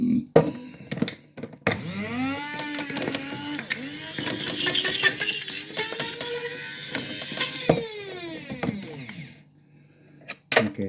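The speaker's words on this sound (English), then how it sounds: "this small grinder cannot challenge those big pieces" A small electric grinder whirs loudly as it grinds shito ingredients, its pitch sweeping up and down as the load shifts. It runs for about eight seconds between short bursts and rattles, then cuts off and restarts briefly near the end.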